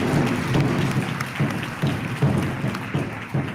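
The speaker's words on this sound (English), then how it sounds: "how about we just take this moment to applaud all the youth that have done all their presentations so far" An audience applauds youth presenters at a national celebration event, with a steady, dense patter of clapping from many hands in a hall that holds at a fairly even level throughout.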